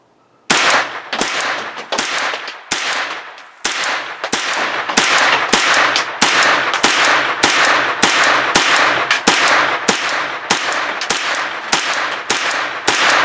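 A Kalashnikov-USA KR9 rifle fires a magazine on an outdoor range, roughly two dozen loud sharp shots in a steady paced string after a brief quiet start, with no talk.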